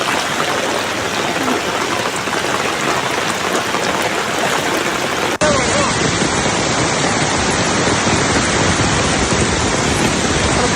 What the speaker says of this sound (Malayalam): വെള്ളം അത്രമാത്രം കുത്തിയൊഴുകുകയാണ്.